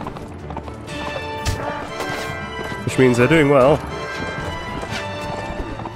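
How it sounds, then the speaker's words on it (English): Horses gallop in a battle in the game Mount & Blade: Warband, a rapid clip-clop of hooves amid clashing combat noise and a short loud burst, with someone talking over it. "Use this horse as cover."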